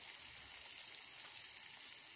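Onions frying in a new wok over a wood fire, giving a steady, dense sizzle with fine crackle that runs evenly throughout, close and alone with no voices.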